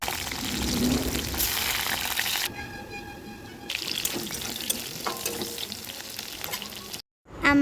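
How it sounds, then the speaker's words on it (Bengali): Cut potatoes frying in hot oil for chicken ghugni give off a steady, close sizzle throughout, briefly overlaid by a tonal hum, and the sound ends abruptly near the end. "আমার মা আলুটা কেটে নেওয়ার পর এই যে গরম তেলে ভাজা করে নেবে আলুটাকে।"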